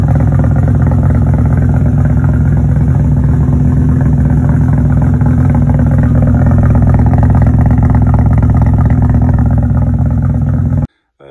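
A loud Mazda RX-7 FD engine rumbles deep and steady for about ten seconds with a heavy exhaust note through a 100 mm exhaust pipe, then cuts off abruptly.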